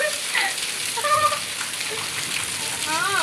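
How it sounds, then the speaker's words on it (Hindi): Heavy rain pours down as a dense, steady hiss of falling water, with a voice and faint animal-like calls heard over it. "इतनी तेज बारिश है"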